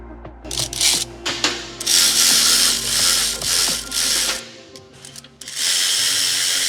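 Ratchet wrench clicking rapidly in loud bursts while tightening the brake caliper bracket bolts on a Wilwood brake setup of an overlanding rig, with brief pauses between strokes.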